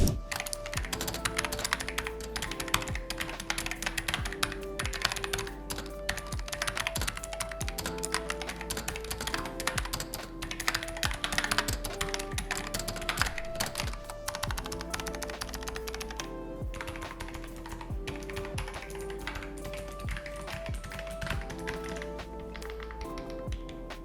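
Razer Huntsman V2 purple optical gaming keyboard being typed on, a dense rapid stream of crisp key taps and clacks running steadily throughout at a moderate, close level, with no talk.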